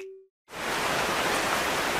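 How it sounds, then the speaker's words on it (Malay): Heavy rain pours down steadily after a brief moment of near silence, a dense, even hiss that fills the space and stays loud and constant. "Hujan lebat ni."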